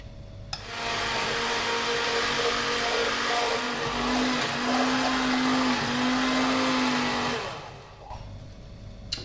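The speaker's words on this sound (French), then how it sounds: "pendant que je mixais ma soupe" A blender purees broccoli and cheddar soup, a loud, steady motor whir that starts abruptly, holds for about seven seconds with a slight rise in pitch partway through, then winds down and stops, with no voices.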